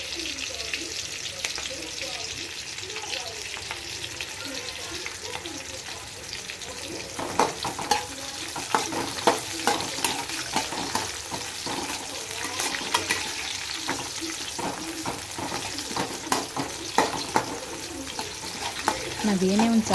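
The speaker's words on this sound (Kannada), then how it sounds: "ಇದೊಂದು ಸ್ವಲ್ಪ ಹಸಿ ವಾಸನೆ ಹೋಗೋ ತನಕ ನೀಟಾಗಿ ಫ್ರೈ ಮಾಡ್ಕೊಳ್ಳೋಣ" Ingredients for a radish sambar fry in a pan with a continuous dense sizzle, growing busier partway through with rapid crackles and stirring scrapes, close and steady throughout.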